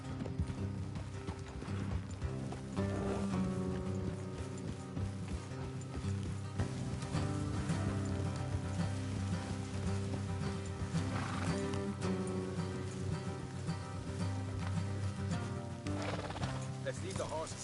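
Horses from Red Dead Redemption 2 clip-clop steadily at a walk through a game scene, with an occasional neigh breaking through over a continuous music and ambience bed; a voice talks briefly in places.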